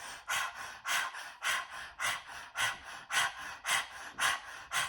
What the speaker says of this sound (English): Now the breath is not going to be staying like this with the tongue out, but it's just to get a feel for the breath.